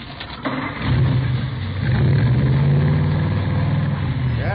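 A salvage-built hot rod with a Mallory ignition, milled heads and twin Wakefield filters, rated at 120 horsepower, cranks and fires up, then settles into a loud, rough rumble with rising revs, close by.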